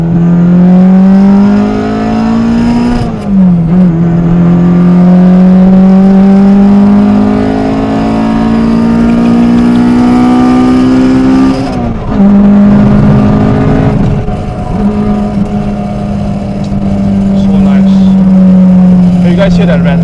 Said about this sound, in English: B series crossover sounds good compared to the K series.